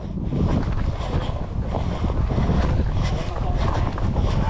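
A cool wind blows on a mountain hike at Doi Mot in Thailand, buffeting the microphone as a steady, rough rush with voices murmuring underneath.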